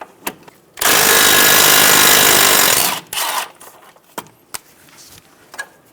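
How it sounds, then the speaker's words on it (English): A power tool or impact wrench with a 12mm socket spins off a brake line bracket bolt on a 2010-2014 Subaru Outback, giving one loud, sustained burst of about two seconds, followed by a few sharp clicks and taps of tool handling. "Using a 12mm socket, remove the bolt for the brake line bracket."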